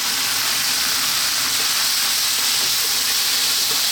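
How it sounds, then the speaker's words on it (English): Chopped fresh tomatoes hitting a hot pan for red lentil dal, giving a dense, steady, loud hiss of sizzling that stays even throughout, heard close with no voices. "Then we're going to add our chopped fresh tomatoes."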